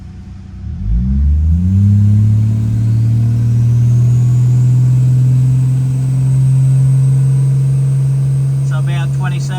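A Toyota JZ engine with an automatic transmission is held at stall speed. It climbs quickly from idle into a loud, sustained steady drone that holds close and constant, and a voice talks faintly near the end.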